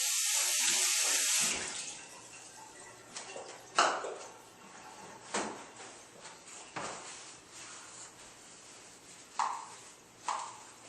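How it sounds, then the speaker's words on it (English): A container is rinsed out under a running kitchen tap while baking banana bread: a steady stream of water for the first second or so, then quieter splashing with several sharp knocks and clinks of the container against the sink. "I'm going to rinse this out next real quick"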